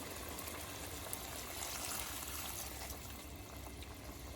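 Water pours steadily into a cooking pot while making Punjabi-style matar paneer, a continuous close rushing splash that holds level with no talking.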